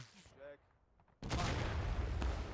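Massed musket volley erupting in a large multiplayer Civil War battle in War of Rights, a sudden loud dense burst of overlapping gunfire after a quiet pause with faint voices, rumbling on continuously.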